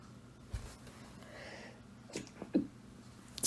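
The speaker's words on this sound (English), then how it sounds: "sneezing" A single person's sneeze indoors at a craft table, a short sharp burst followed by a couple of smaller breathy snorts and a quick sniff, close to the microphone in an otherwise quiet room.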